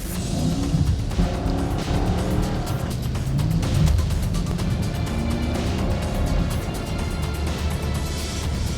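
A 2021 Chevrolet Camaro cruises toward the city at sunset in Dubai, its engine a constant, full-bodied drone with road rumble that holds steady from start to finish, with no talking.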